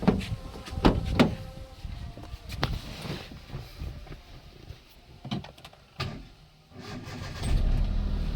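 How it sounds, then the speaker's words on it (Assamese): A Hyundai Eon D-Lite+ car engine cranks and catches after a few clicks and thumps, then settles into a steady idle that grows louder at the end. "চাওক গাড়ী কি ধুনীয়াকৈ ষ্টাৰ্ট লৈছে"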